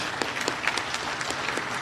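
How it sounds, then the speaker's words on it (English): An audience at an Autism Acceptance Month event applauding for a group of kids, sustained crowd clapping that stays steady and even throughout. "can I get a round of applause for these kids?"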